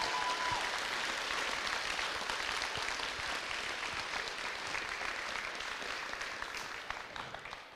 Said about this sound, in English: Give yourselves a round of applause for being here and taking care of it.